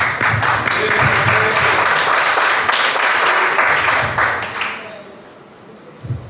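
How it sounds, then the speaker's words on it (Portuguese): Congregation applause at a church gathering: a dense, sustained wash of many hands clapping that holds steady for several seconds, then thins and fades out. "Uma salva de palmas."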